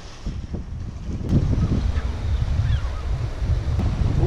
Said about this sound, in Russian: Ух, какой ветерок!